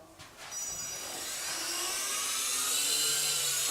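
A JJRC SY003B toy RC helicopter spins up its rotor, giving a thin, high whine that rises steadily in pitch and loudness over a few seconds, close by and with no talk.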